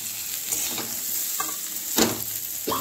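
Chili and whole tempering spices sizzle in hot oil with a steady close hiss, broken by a few sharp stirring scrapes and crackles over a short stretch.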